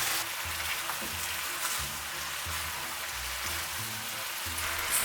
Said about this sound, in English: Add the spaghetti and the sauce. Stir from time to time for 3 minutes.